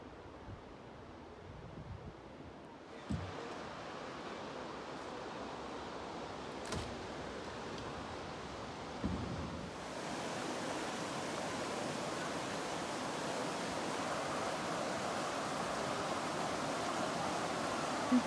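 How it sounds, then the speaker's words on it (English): A creek flowing into Watauga Lake, heard as a steady broadband rush of water that grows noticeably louder and fuller partway through as it draws nearer, with no voices over it. "you can hear the sound of the creek as we get closer"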